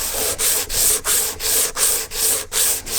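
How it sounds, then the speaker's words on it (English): A DA sander with 180 grit works an aluminum support piece for a 1JZ S13 build, making loud, even rasping passes that repeat about three times a second, with no voices. "I hit it with the 180 grit on the DA"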